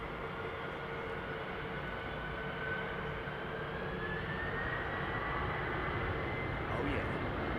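A United Boeing 767-300 jet passes at foggy London Heathrow, a steady, broad engine roar with a slowly rising whine, heard moderately close with a voice speaking faintly over it.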